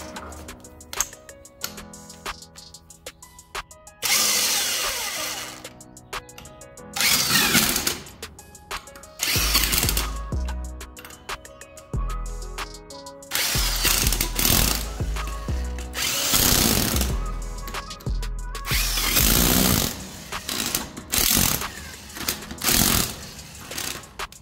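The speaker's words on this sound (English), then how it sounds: "We got this beast from Harbor Freight. I got the Bauer. I got the Bauer half inch. Ugga dugga gun." A Bauer half-inch impact wrench from Harbor Freight works on trailer axle hardware, firing in repeated loud, close hammering bursts of a second or two each, separated by short gaps and quieter tool handling.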